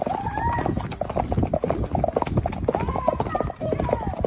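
Horse hooves clip-clop steadily on the ground during a horse ride in Campos do Jordão, close and fairly loud under continuous women's chatter and excited talk.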